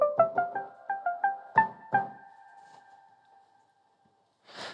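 Sine wave synth line from Ableton's Analog synth with no grain delay: about eight quick, bubbly tonal notes in a bouncing rhythm, then a longer note that rings and fades, ending with a short soft noise burst.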